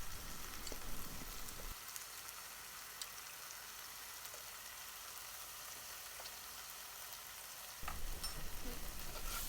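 Lemongrass and red curry ingredients frying over high heat in a pan for a Thai chicken and prawn curry, giving a constant close sizzle that dips quieter in the middle, with occasional stirring scrapes.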